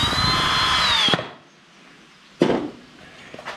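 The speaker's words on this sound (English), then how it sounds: "run those screws in" A power drill drives screws into a turkey mount in two short bursts, the first a whining run of about a second that slows as the screw seats, then a brief second spin after a pause.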